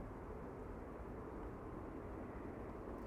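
A Delta Airlines airplane departing Amsterdam Schiphol Airport gives a steady, distant broadband jet roar that holds even and unbroken throughout, with no voices over it.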